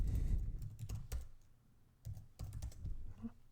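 Computer keyboard keys clatter in quick irregular bursts while a new file is being created in a code editor, close and fairly quiet, with short pauses between runs of typing.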